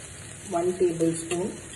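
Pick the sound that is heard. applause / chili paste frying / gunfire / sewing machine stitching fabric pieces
chili paste frying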